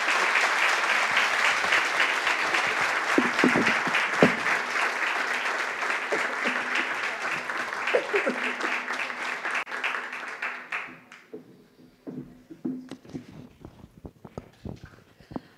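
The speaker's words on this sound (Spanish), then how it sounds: "pido nuevamente un aplauso para ella" An audience applauds after a philosophy lecture at a human rights symposium, a dense, sustained clapping from many hands that holds for about ten seconds, then thins out into a few scattered claps and faint room noise.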